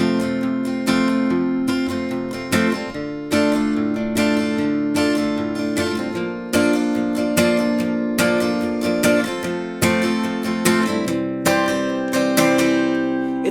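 Acoustic guitar strumming the verse of a song with a spiced-up chord variation, steady rhythmic strums played close and clear with no talking.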